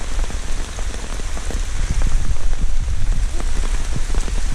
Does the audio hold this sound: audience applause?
no